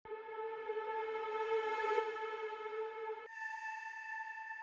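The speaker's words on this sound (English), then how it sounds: "Then I added some ambience like reverse one shots like this." A swelling synthetic tone that rises steadily like a reversed sample, then cuts abruptly into a steadier, thinner sustained tone; no voices.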